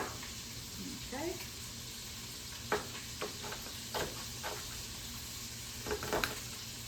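Onion and sausage sizzle in a skillet with a quiet, steady frying hiss, joined by a few soft scraping and stirring clicks.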